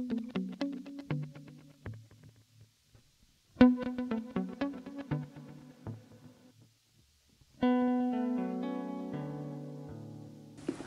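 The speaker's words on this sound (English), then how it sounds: "to me it sounds like basically like a harp player." Plucked guitar notes played through a Line 6 Helix effects preset ring out in three bright, harp-like phrases, each note sustaining and fading, played alone with no talking.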